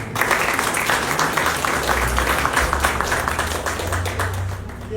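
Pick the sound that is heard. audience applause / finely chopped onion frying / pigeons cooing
audience applause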